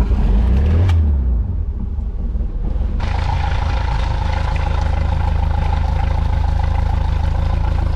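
A 1995 Mercruiser 3.0L boat engine cranks briefly, falls quiet for a moment, then catches and settles into a loud, steady close-up idle rumble with a clattering mechanical texture.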